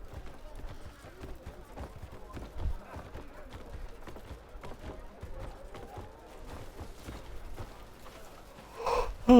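A horse's hooves clip-clop in a steady trotting rhythm in the video game Crimson Desert, mixed with ambient game sound at a moderate level.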